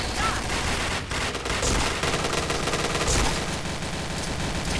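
Dense automatic gunfire from a shooter video game, sustained bursts rattling loudly and continuously with no voices over it.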